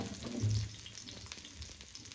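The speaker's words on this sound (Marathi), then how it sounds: "तेल गरम झालं की त्यामध्ये टाकायचा कांदा" Chopped onion hits hot oil in a pan with a brief burst of frying hiss, then settles into a low, steady sizzle heard close up, with no talking.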